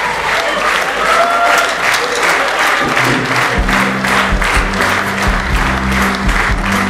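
Dense applause from a comedy show audience fills the room at an even, loud level, many hands clapping with faint low crowd murmur and some background stage noise underneath.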